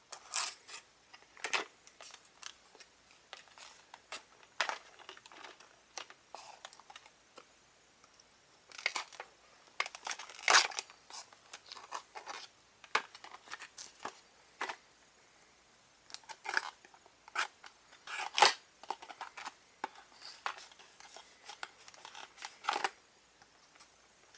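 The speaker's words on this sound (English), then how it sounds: "let's open up and take a look at the keys." A Power Rangers Super Megaforce legendary key pack is being opened by hand, with scattered crinkles, clicks and plastic snaps in irregular bursts and pauses, fairly close and quiet, without speech.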